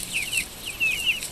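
Small chickens near their new coop give several short, high-pitched chirping clucks in quick succession, close and fairly clear against a quiet background.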